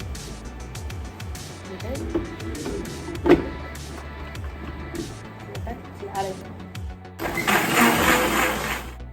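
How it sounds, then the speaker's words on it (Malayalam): A mixer grinder blends shake ingredients with sugar in its jar, loud whirring and rattling bursts interrupted by pauses, ending in a harsh, intense grinding surge; a voice speaks in between. "നമുക്ക് മിക്സി അടച്ചു വെക്കാം"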